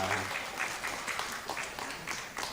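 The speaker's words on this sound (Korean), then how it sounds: "박수 한번 뜨겁게 부탁드리겠습니다." Church congregation clapping during a Sunday afternoon worship service, a dense round of applause with distinct claps, moderately faint and continuous, a brief low tone at the start.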